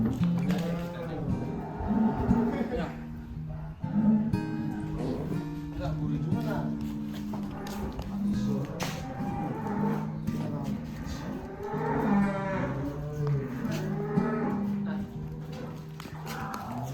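Cattle moo repeatedly at a farm where jumbo cows and calves are weighed before Eid al-Adha, the lowing calls close and overlapping throughout, with people talking among the animals.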